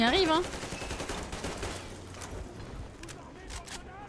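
Rapid gunfire in the video game Metro Exodus crackles in a dense sustained burst of shots with game noise, with a voice talking over part of it.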